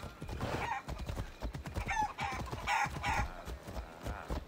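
Horse hooves clopping in the video game Assassin's Creed Odyssey, a steady trotting rhythm of soft, mid-distance hoofbeats with a few faint whinny-like cries on top.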